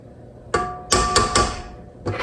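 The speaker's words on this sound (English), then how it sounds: "Get all this extra off my spatula here." A spatula knocked against a mixing bowl to shake off clinging snowball cookie dough, giving a few sharp taps in quick succession, with one more tap after a short pause, close and fairly loud.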